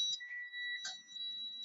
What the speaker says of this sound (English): I'm gonna go ahead and turn the key on. There are gonna be some buzzers,